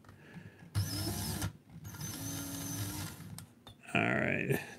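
A power drill whirs in several bursts, stopping and starting, its motor pitch rising as it bites in, close and fairly loud, drilling holes in an ECX Barrage UV 1/24 crawler.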